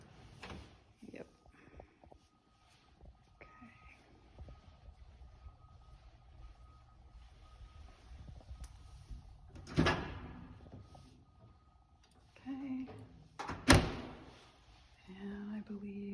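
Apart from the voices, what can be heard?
soft close kitchen drawers opening and closing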